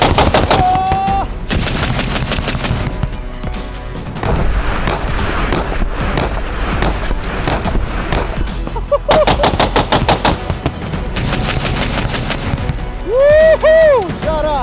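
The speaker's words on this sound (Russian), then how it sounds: "Пушка 30-ка идеально справляется с задачей." Heavy 30mm autocannon fire from a Bradley infantry fighting vehicle in a video game, long rapid bursts of loud booming shots with a few brief pauses and some whistling effects.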